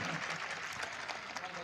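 Brief crowd clapping at a village political party meeting, a dense patter of hands from a large gathering with voices mixed in.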